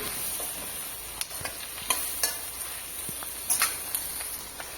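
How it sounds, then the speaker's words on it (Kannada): Chopped ripe tomatoes frying in a pan for a chicken curry, with a soft continuous sizzle broken by a few sharp spatula scrapes and taps against the pan. "ಚೆನ್ನಾಗಿ ಹಣ್ಣಾಗಿರುವಂತಹ ಟೊಮೆಟೊವನ್ನು ಕಟ್ ಮಾಡಿಕೊಂಡು ಈ ರೀತಿ ಸೇರಿಸ್ಕೊಂಡು ಚೆನ್ನಾಗಿ ಫ್ರೈ ಮಾಡ್ಕೊಳ್ಳಿ"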